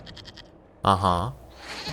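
A goat bleats once, loud and close, in the fantasy role-playing video game Dragon Age Inquisition, with a short spoken reply before it and faint game background sound after.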